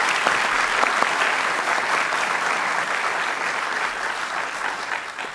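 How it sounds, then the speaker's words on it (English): An evening debate audience applauds both debaters with dense, sustained clapping that fills the room at an even level and tapers slightly toward the end. "A final round of applause for both of them for their excellent debate tonight."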